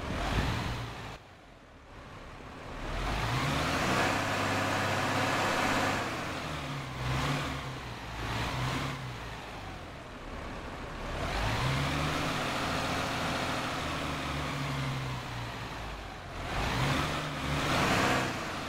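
A bus engine with a Voith transmission accelerates in repeated surges, its loud, close drone rising and falling as the gears shift through each pull.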